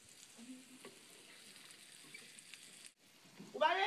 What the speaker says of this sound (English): So onions, peppers, saute.